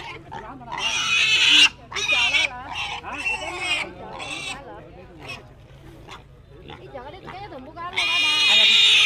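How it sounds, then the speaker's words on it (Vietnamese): Local Hmong pigs at a highland livestock market in northwest Vietnam, squealing and grunting in loud repeated bursts close by, mixed with voices of people talking in the market crowd. "lợn bản các bạn"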